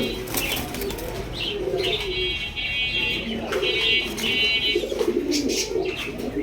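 Pigeons, including large Lahori pigeons, coo repeatedly nearby with bursts of wing flapping and light chirps mixed in, a busy, continuous flock sound.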